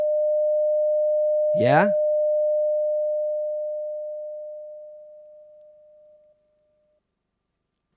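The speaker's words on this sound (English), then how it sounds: "we've done this now with a simple sine wave" A pure, steady sine-wave test tone sounds from a mixing console, holding one constant pitch before fading away gradually; a voice says a single brief word partway through.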